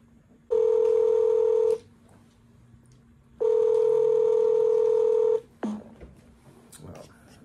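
Telephone tones on a cold call, two long steady beeps separated by a pause, loud and clear, followed by a short click and faint background noise.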